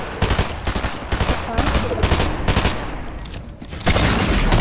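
Fortnite gunfire crackles almost nonstop in loud, overlapping volleys, with sharp shots stacking up and a heavier burst near the end.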